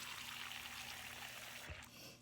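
Water trickles and pours steadily into a container for rinsing paint brushes, a close continuous splashing stream that tapers off near the end.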